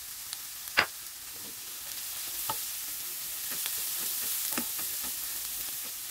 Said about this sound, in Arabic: هنا واحنا نحمس بالبصله راح نضيف البهار حتى نحمسها وياها.